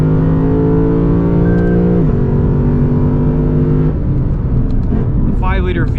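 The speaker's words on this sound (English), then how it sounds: "The 5-liter V8 sounds fantastic." A 2020 Lexus RC F's loud 5-liter V8 engine roars steadily on a race track with a rising and dropping pitch, then settles, with a voice talking over it near the end.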